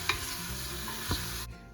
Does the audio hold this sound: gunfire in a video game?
no